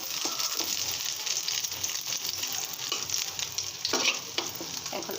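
Eggs frying in oil in a pan, a continuous near sizzle with occasional scraping and clicking from a spatula, steady and fairly loud, no one talking.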